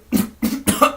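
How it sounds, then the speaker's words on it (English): A person coughs four times in quick succession, loud and close, with short gaps between the sharp bursts. "I just started coughing for no reason there"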